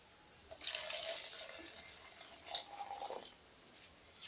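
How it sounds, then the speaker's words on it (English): Warm water pours and trickles into a bottle in two bursts, a longer splashing pour followed by a shorter one, fairly close and moderately loud. "Then I'm going to pour in the warm water,"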